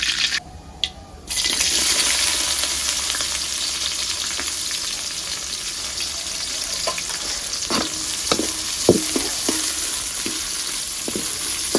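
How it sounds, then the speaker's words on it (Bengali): Cumin seeds, bay leaf and onion fry in white cooking oil with a loud, steady sizzle and crackle, broken by several sharp clinks of a stirring utensil against the pan. "তেলে দিয়েছি জিরে আর তেজপাতা। সাথে দিয়ে দিব পেঁয়াজ,"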